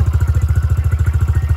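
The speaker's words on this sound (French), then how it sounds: "C'est mon moto." A dirt bike engine at a motocross track throbs in a fast, even pulse, loud and close with a rough, rattling idle and no voices.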